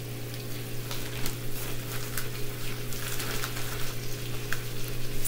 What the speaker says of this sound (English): All right, time to put the pork chops in.